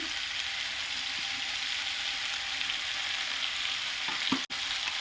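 Taro and chicken spiced with turmeric, salt and chilli powder being stirred in a hot pan, giving a steady close sizzle and frying hiss with occasional scraping stirs, heard alone without talk.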